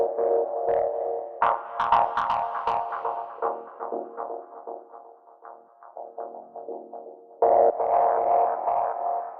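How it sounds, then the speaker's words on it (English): A gritty, distorted synth riff pulses in short stabs, its tone crunchy and saturated, swelling louder near the end; no one speaks. "let's play with this distortion."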